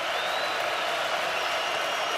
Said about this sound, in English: Michigan crowd making some noise for the first time today for their defense